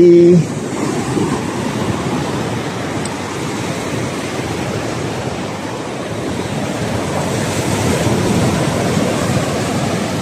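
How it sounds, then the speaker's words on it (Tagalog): Strong sea waves break on a beach at San Juan, Batangas, a loud continuous wash of surf with wind roaring across the microphone, steady throughout and swelling slightly near the end. "Takas talaga ng alon."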